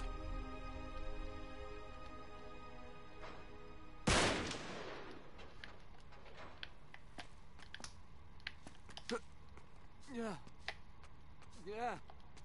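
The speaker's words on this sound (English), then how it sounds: "Back up, I'll shoot the lock." A single sharp, loud gunshot at a lock in Uncharted 3 cracks out of a quiet, humming scene, then scattered clatters and faint scraping sounds follow.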